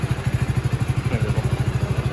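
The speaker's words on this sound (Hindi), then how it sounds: "देखो बाइक स्टार्ट हो गई है" A Hero Splendor motorcycle engine idles close by just after starting, a quick, even putter of low thumps that keeps a steady rhythm.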